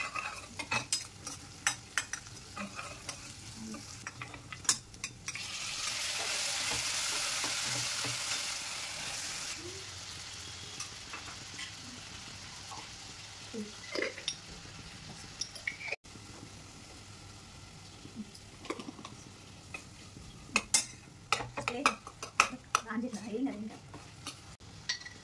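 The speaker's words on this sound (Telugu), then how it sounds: "అల్లం వెల్లుల్లి పేస్ట్ స్మెల్ పోయేంత వరకు బాగా వేయించుకున్నాం." Mutton kheema with ginger garlic paste frying in a pan, a soft steady sizzle broken by scraping stirs and clinks of a spoon against the pot, with a louder hissing swell midway and a voice talking at times.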